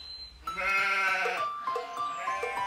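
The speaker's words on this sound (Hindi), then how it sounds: "जो अपनी बकरियों को घास चरा रहा था" A goat grazing in the mountains lets out a loud, close, wavering bleat that rises and trails off, with a second shorter bleat following.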